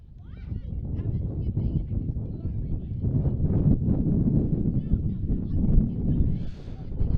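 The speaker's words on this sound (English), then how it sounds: "Large gusts of wind coming in now from the north." Strong gusts of wind sweep across an outdoor soccer field during a girls' match, buffeting the microphone with a loud, steady low roar that rises and falls throughout.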